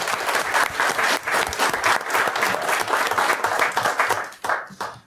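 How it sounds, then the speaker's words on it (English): Applause from the audience at a city council meeting in Ogden, loud, dense and sustained clapping from a full room that continues for several seconds before tapering off near the end. "Maybe let's do one more round of applause for these guys."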